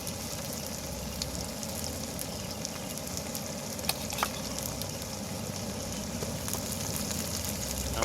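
Ginger garlic paste frying in a pan with onions and chillies for a home-style chicken kosha, a steady close sizzle with small crackles and pops throughout.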